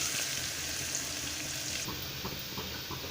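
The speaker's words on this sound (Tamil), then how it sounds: "எண்ணெயில் நல்லா இந்த மாதிரி வணக்கிக்கோங்க" Onions sauté in oil in a pan for a drumstick flower egg stir fry, frying with a continuous hiss and crackle, joined by a few light stirring clinks toward the end.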